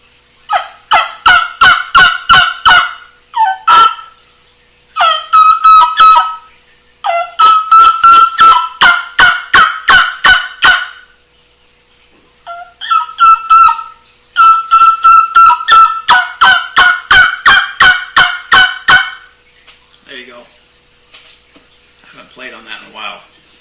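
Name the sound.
turkey call trumpet played, imitating turkey yelps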